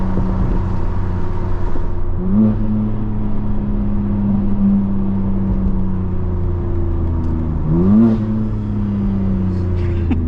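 A 2024 BMW M4 Competition with a transmission tune and intakes accelerates hard, engine tone climbing through the gears with two quick upshifts, heard from inside the car.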